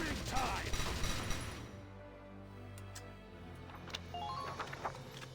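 Video game gunfire crackles as a dense, loud volley at the start, then gives way to scattered, sharper single shots over a lower hum, with no talking.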